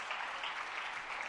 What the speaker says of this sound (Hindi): जरा एक बार जोरदार तालियां इन सभी के लिए